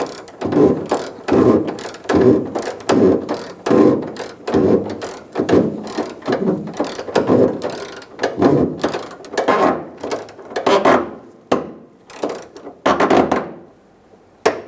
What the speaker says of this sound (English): once you get your bolt started, you can tighten it down.